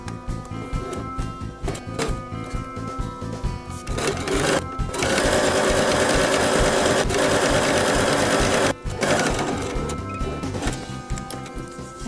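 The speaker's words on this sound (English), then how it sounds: "sewing along the long edge fairly close to this outside edge here" A sewing machine runs a long, steady whir of rapid stitching along the edge of a tote bag strap, close and loud. Short pauses break it, and lighter handling clicks come between the bursts.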